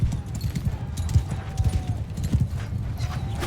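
Horse hooves clip-clop in quick, uneven beats on a battlefield in Mount & Blade II: Bannerlord, near and prominent, with a brief whinny and busy battle noise around them.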